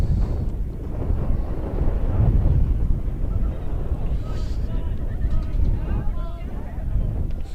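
Wind gusts buffet the microphone outdoors at a varsity boys soccer game on a chilly night, a steady, loud low rumble that swells and ebbs for the whole stretch, with muffled voices faintly beneath.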